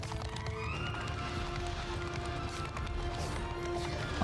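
Cavalry horses galloping in Mount & Blade II: Bannerlord battle, a dense drumming of hooves with whinnies rising over the constant rumble, loud and continuous across the short stretch.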